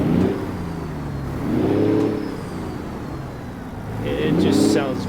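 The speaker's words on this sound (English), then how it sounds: "we're going to just give it a little rev" A truck engine in American Truck Simulator revs up and falls back twice, a smooth mid-pitched whine swelling and easing over a steady low hum.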